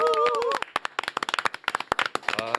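A studio audience welcomes lawmaker Park Chan-dae with scattered, distinct handclaps, a loose uneven rhythm in the middle. A voice speaks just before the claps and again at the end.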